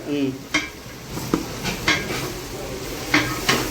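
Biryani masala being stirred and sautéed in a large pot for a 100 kg Dindigul biryani, with a ladle scraping in repeated strokes over a soft background sizzle, close and fairly loud.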